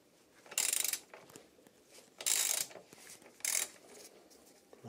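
A ratchet wrench loosens a fitting on a Kawasaki Z1000SX motorcycle sprocket, sounding as three quick, close bursts of rapid clicking separated by short pauses.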